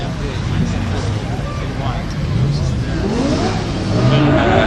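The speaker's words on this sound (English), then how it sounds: "On the start line now we have James Booth in the Mercedes SLS" A Mercedes SLS drophead sits on the start line at a motorsport hillclimb event, its engine revving and rumbling loudly in repeated rising surges while a commentator talks over it.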